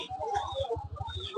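A rooster clucks at a busy market selling fish, ducks and chickens, with a quick series of short low clucks, fairly close, against faint background chatter.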